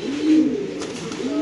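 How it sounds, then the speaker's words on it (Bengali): At a pigeon farm, a domestic pigeon gives a close, low, rolling coo that swells and then trails off over about a second and a half. Faint background noise runs underneath and no one speaks. "এটা কি কবুতর ডাকতেছে"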